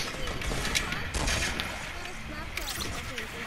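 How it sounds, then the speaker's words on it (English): Gunfire in an online multiplayer video game, a dense crackle of overlapping shots spread through the moment, with game ambience and some voices underneath. "Oh, I hear a shot."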